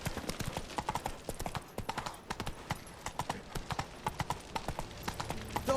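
Hooves of Roach, the horse in The Witcher 3, clip-clop in a steady rapid rhythm, close and clear throughout, with no talking over them.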